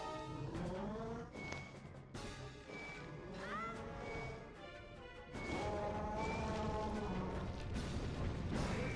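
Cannons fire in The Wind Waker during a randomizer race, with a few dull booms landing over steady, tuneful game music.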